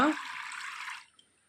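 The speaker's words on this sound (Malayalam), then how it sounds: "വെള്ളം താഴോട്ട് വീഴുന്നു" Water pours down out of a pierced plastic bottle once the hole is uncovered, a close, steady splashing rush that stops abruptly after about a second, leaving near silence with one faint drip.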